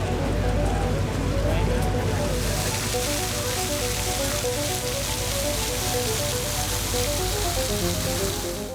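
Artificial rain pours from big overhead rain bars fed by pumped water lines on a film set, a steady dense hiss and patter, loud and unbroken throughout with a faint low hum underneath.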